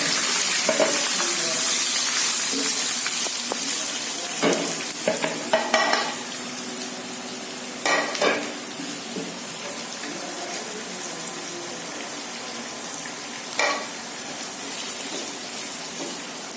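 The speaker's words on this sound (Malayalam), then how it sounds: "ഇതിലോട്ട് നമുക്ക് കട്ട് ചെയ്ത് വെച്ച ഉള്ളി ഇട്ട് കൊടുക്കാം" Chopped onions sizzle and hiss in a hot pan with no added oil, broken by occasional scraping stirs and clinks of a spatula against the metal.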